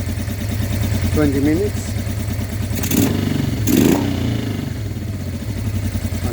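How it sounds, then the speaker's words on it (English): A Honda Deauville 650 motorcycle, freshly restarted in a workshop, idles with a steady low rumble beneath someone talking close by, with a couple of brief louder clattering bursts. "all I know is the bike is running"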